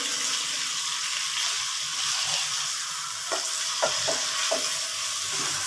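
Chicken karahi sizzles steadily in hot oil in a wok, with a few sharp scraping stirs of a spoon toward the end; close and fairly loud, with no talking.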